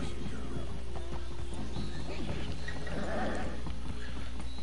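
A frightened Arabian horse in Red Dead Redemption 2 snorts and whinnies amid hoof clops, heard fairly close over steady game ambience.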